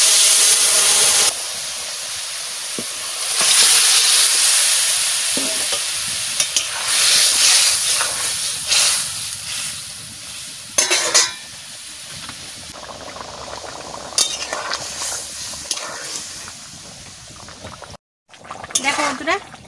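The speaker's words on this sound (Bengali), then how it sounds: "তরকারি ঢেলে দিচ্ছি।" Vegetable curry with dried chillies is poured into a hot pan and fries there. A loud, broad sizzle and hiss rises at once, then settles into steady frying with stirring scrapes. A voice talks over it, and it cuts off briefly near the end.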